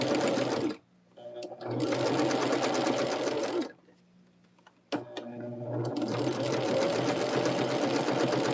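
A sewing machine stitches a quilt block in long, steady, fast-running bursts close by, stopping twice briefly with small clicks before starting up again.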